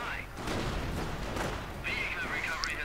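Mortar half-track firing in a WWII real-time strategy battle, repeated dull booms and bursts of gunfire amid constant battle noise, with talk over it.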